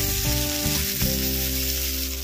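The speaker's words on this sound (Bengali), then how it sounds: "এখানে পেঁয়াজটা অল্প মতো ভাজা হয়ে গেছে।" Sliced onions fry in a small amount of oil, a loud, unbroken close-up sizzle that holds steady throughout, with a faint tonal layer underneath.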